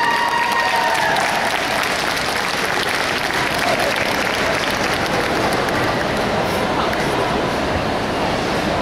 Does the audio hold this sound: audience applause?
yes